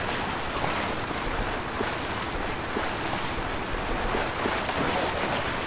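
A truck fords a river in Spintires: MudRunner, giving a steady rush of churning water and engine rumble that stays even and fairly loud throughout, with no voices.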